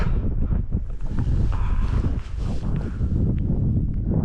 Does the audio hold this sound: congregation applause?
no